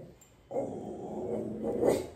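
A Yorkie terrier barks during a home grooming session. After a brief pause comes a sustained, fairly faint yappy bark that ends in a louder burst.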